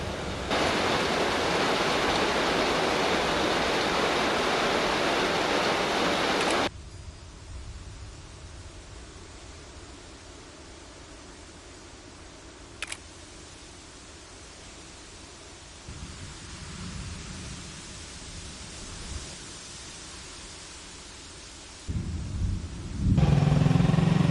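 Rain begins over a mountain pass, a dense roaring hiss of rainfall close by, cutting off abruptly and later returning briefly, with quieter outdoor ambience between.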